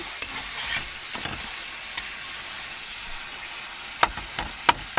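Fish pieces sautéed and stirred in a pan of spiced oil for a Bengali kalia, a soft continuous sizzle broken by a few sharp clinks and scrapes of the spatula.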